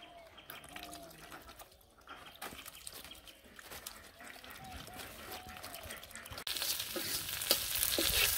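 Fish frying in oil in a village kitchen, a soft bubbling sizzle with stirring that grows louder and brighter toward the end, faint voices in the background.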